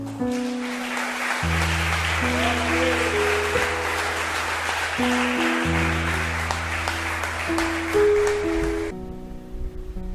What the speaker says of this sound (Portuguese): Se você pode aplaudir Jesus.